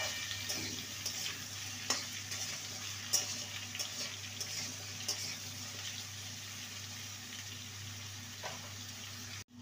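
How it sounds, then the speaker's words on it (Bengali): Chunks of bottle gourd fry with potatoes in a pan, giving a soft, continuous hiss with faint sputters and occasional clinks, fairly quiet and steady throughout. "লাউটাকে 2 মিনিট ভেজে নেব আলুর সাথে।"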